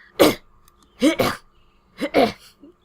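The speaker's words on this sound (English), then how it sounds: "That's the most fake coughing sound ever." A short game sound effect of a character coughing in Lovely Little Thieves, three separate bursts of harsh, voiced coughs in a rough rhythm, close and clear against silence.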